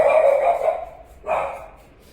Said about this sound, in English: there goes my dogs. They need to bark every time I start a voiceover